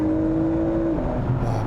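A Porsche Macan GTS turbo engine revs smoothly, a clear rising engine tone holding steady then dropping as the revs change, loud and close with no talking.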